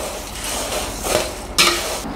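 A crispy fried flattened rice snack mixture with spices is stirred in a pan, giving a steady dry rustling crackle with a louder scrape near the end, close and without talk.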